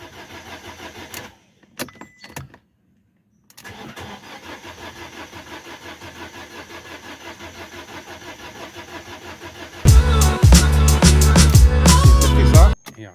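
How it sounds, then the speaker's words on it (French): A Fiat 500 with an ignition misfire fault cranks without catching: after some clicks and quiet shuffling, the starter grinds loudly in a rapid pulsing rhythm for about three seconds and then stops. "Comme vous avez vu, la voiture ne démarre pas."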